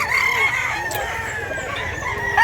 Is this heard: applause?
no